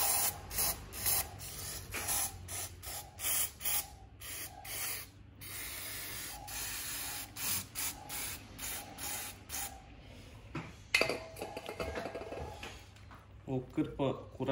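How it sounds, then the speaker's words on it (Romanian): Brake disc cleaner sprayed from an aerosol can onto a KTM motorcycle during an oil change, heard as repeated close, loud hissing bursts with short pauses between them, followed near the end by a lower rubbing and wiping noise. "acum cu un spray de discuri de frână curățăm bine"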